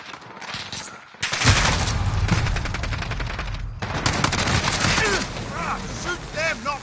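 A Bruen MK9 light machine gun fires in Call of Duty Modern Warfare 3, loud sustained automatic bursts rattling in rapid rhythm with brief pauses, other in-game sounds chirping behind.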